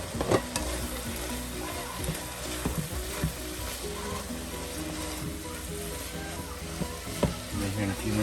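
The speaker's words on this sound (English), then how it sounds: "I'm going to start adding coconut to it." Chicken filling for Cambodian-style banh xeo fries steadily in a pan as coconut is stirred in, with a constant close sizzle and irregular scraping and stirring clicks throughout.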